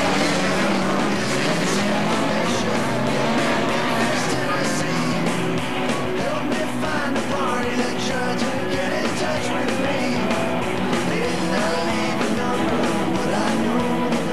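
Autocross passenger cars racing on the Tobago X track during a Latvian championship round, engines roaring loud and continuous with revving and gear changes blending together as cars pass close by.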